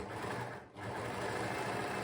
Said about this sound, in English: So overlock each piece separately